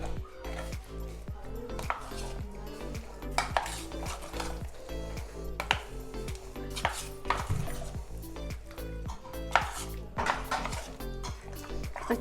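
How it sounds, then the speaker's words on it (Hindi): A spoon works chicken pakora mixture with egg in a bowl, clinking and scraping against the dish in a steady, busy rhythm, loud and close with no talking. "अच्छे से हम इन सब चीज़ों को मिक्स करेंगे।"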